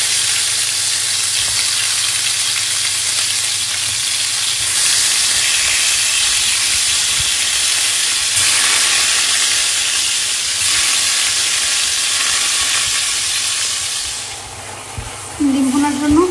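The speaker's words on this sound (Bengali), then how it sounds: "ভর্তার জন্য ভেজে নেব।" Tomato frying in a pan for bharta in a home kitchen, a continuous loud sizzle and hiss with steamy crackle, easing slightly near the end as a brief stir or clatter breaks in.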